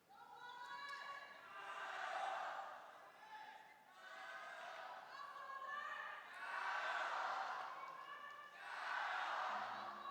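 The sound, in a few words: crowd counter cheering at table tennis final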